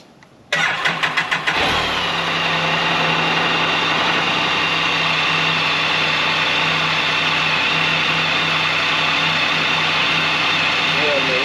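A 2024 Can-Am RT Limited cranks briefly and fires up after an oil change, then settles into a steady, even idle that runs on loud and close.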